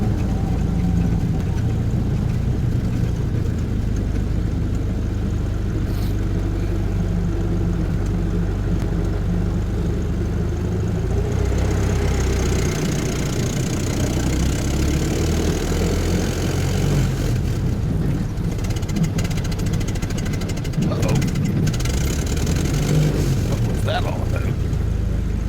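A car engine drones steadily under load, climbing uphill in high gear through Paris streets, for a long stretch: a low continuous hum with road noise, and a voice speaks over it.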